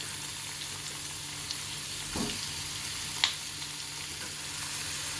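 Tomato pieces sizzle faintly in a pan with cloves and cinnamon for a jackfruit seed masala curry, a steady low hiss with a couple of soft stirring scrapes.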